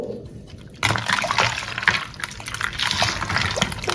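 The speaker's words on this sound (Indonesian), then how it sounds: "Tambahkan juga 500 ml air galon." 500 ml of gallon-jug water poured into a sweet syrup drink being mixed: a steady close splashing, gurgling pour that starts abruptly and continues without speech.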